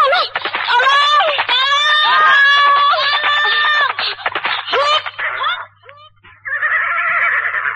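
Several people in an Indonesian radio drama scream and shout frantically for help over one another, loud and close, then the panic trails off into a brief lull before more shouting.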